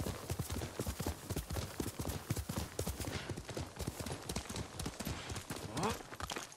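Horse hooves clip-clop in a steady, fast trotting rhythm across the whole stretch in Ghost of Tsushima, close and clear, with a brief faint rising whistle-like sound near the end.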